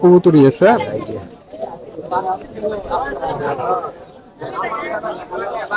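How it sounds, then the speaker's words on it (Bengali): Caged khaki pigeons coo at a busy pigeon market in Dakshinkhan, Dhaka, their soft calls nearly buried under close conversation and crowd chatter. "আপনার খাকি কবুতরটা একটু দেখি ভাই ওনার খাঁচায় মোটামুটি অনেকগুলো"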